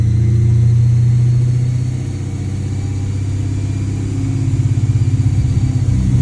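A Dodge Challenger Scat Pack Widebody with headers, running E85, roars steadily on a dyno in fifth gear, its loud engine note dipping briefly before climbing again into a strong, continuous drone.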